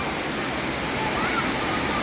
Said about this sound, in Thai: ก็เลยเอาบรรยากาศ น้ำตกเก็บสาวน้อยมาฝากพี่ๆน้องๆน้าๆทุกคน